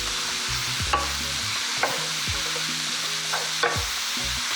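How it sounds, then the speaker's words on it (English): Chopped thyme being stirred through in a fry pan, a soft steady sizzle with several scraping strokes of a utensil against the pan, close and alone. "And now we're just going to add the thyme, the chopped thyme. Stir it through."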